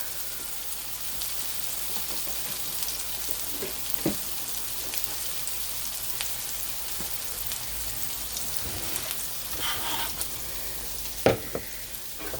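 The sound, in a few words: onions and mushrooms frying in a pan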